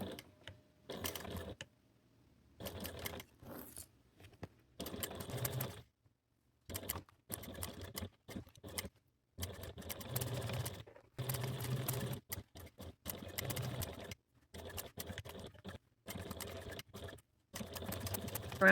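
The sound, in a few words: sewing machine backstitching faux leather notebook cover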